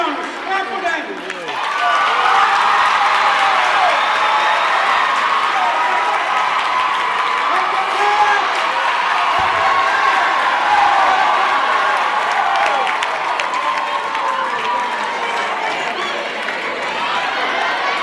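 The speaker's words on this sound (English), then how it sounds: "The champions, clap for them." Audience at a school science and maths champions awarding ceremony claps and cheers steadily for the winning students, a dense, sustained crowd sound that swells early and holds throughout, with voices mixed into the noise.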